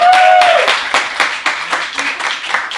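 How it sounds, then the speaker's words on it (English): Applause from an audience at a talk about positive psychology in organisations, a dense patter of many hands clapping steadily for a few seconds, loud and close, after a brief tone at the start. "Big round of applause to Hiro."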